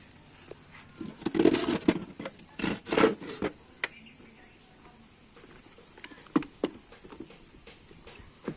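A child scrubs a surface during household chores, with irregular rubbing and scraping bursts close by and a few sharp knocks, while an adult's voice coaches in the background.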